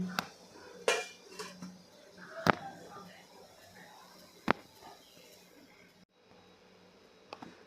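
A metal sieve set into a pot and a lid placed on top for steaming alu vadi rolls, giving a few sharp metallic clanks and taps spaced apart against a quiet kitchen background.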